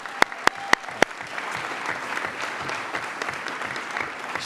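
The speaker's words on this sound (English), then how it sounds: "Yes, we can clap for her right now." A school district audience claps for Andrea Bazant with steady, fairly soft applause after a few sharp, louder claps nearby at the start.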